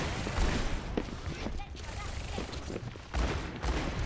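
Video game gunfire crackles in scattered bursts and short volleys under a coaching session, fairly faint in the mix while people talk over it.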